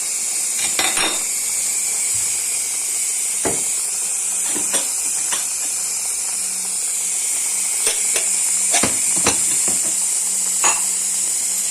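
Fresh broad beans sauté gently in a pot over low heat, with a steady soft sizzle and scattered clinks of a utensil against the pot. No one speaks.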